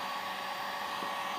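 A heat gun blows a steady, even airflow while warming carbon fiber vinyl wrap into the grooves of BMW F30 interior trim, a constant hissing whoosh heard close and alone.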